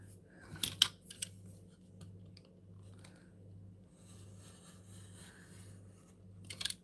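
Scissors snip through paper or card while a pocketed folder is being made, a few sharp cuts near the start and again at the end over a low steady hum.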